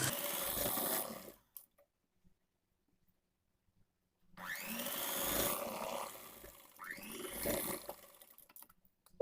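A sewing machine runs stitches along a chudithar pant seam in two close, steady bursts of mechanical whirring, with a silent pause between them.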